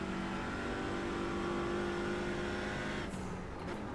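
A TCR touring race car in the iRacing game at Sonoma holds a loud, steady, high-revving engine note, then drops off sharply near the end as the driver lifts or shifts.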